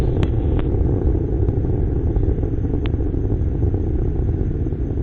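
Continuous deep, steady roar of the solid rocket motor on the Phoenix Mars launch vehicle during ascent past max Q, with faint crackle on top of a broad rumble that persists throughout.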